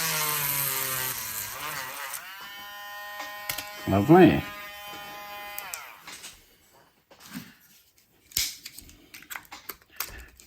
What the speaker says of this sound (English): Clean up my little drill bit.